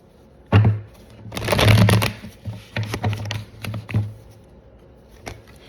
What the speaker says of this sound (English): it takes me a while to shuffle